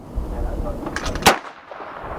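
One sharp, loud gunshot cracks at an outdoor shooting range, preceded by a low rumbling background and a couple of fainter pops, followed by a quick decay into quieter ambience.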